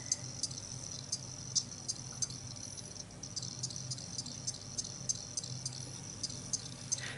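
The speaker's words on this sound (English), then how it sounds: "There's a little cricket." A small cricket chirps in short, regular, high-pitched trills over faint background noise, quiet and steady throughout.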